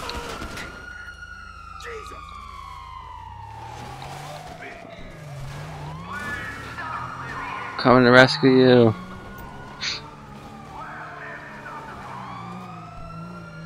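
Police car sirens in GTA 5 Online, several sweeping wails overlapping and gliding up and down against engine rumble, continuing for many seconds while a player talks over them.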